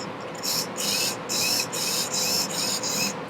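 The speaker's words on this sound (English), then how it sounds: "And then we're also going to test the servo." A servo motor in a Hangar 9 Cap 232 RC airplane is run through test movements, giving a series of about six short, close whirring buzzes in quick succession with brief pauses between them.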